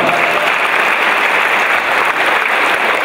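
Loud, continuous audience applause at a speedway team presentation for KS ROW Rybnik, a dense even roar of clapping with no talk over it.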